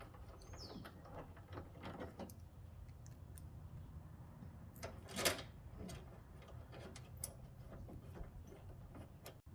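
Ratchet clicking as Torx screws are driven in to mount headlights on a 2008 Dodge Ram Mega Cab, quiet and close, with scattered short ticks, clunks and one sharper metallic knock.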